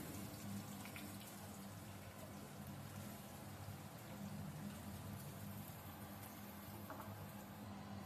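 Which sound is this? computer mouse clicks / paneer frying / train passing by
paneer frying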